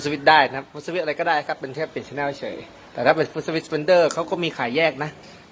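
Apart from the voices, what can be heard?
No everyday noises stand out.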